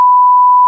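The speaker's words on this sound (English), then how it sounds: "a beep there would be appropriate, I think" A single loud, pure censor beep tone holds steady for under a second, starting and stopping abruptly, alone with no talk.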